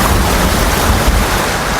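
A waterfall in the video game Ghost of Tsushima gives a steady, full rushing roar of falling water, close and continuous throughout, with no voices.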